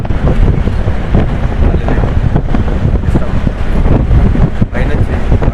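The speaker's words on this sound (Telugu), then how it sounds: "చాలా అంటే చాలా భయంకరంగా ప్రవహిస్తుంది" Krishna river in full spate, flowing fiercely near Alampur, roars as a loud, continuous broadband rush with wind buffeting the microphone and a brief dip near the end.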